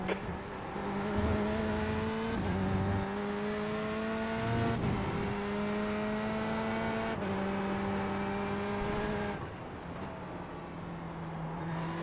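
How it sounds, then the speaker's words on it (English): Race car in the iRacing simulator: a steady engine drone with repeated gear-shift steps as it runs at speed, then the tone drops near the end as another, faster car closes in from behind. "There's a faster car approaching."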